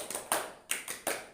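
A small class claps the tepuk semangat routine in a rhythmic pattern, four crisp group claps a beat apart, fairly soft and close, with no talking.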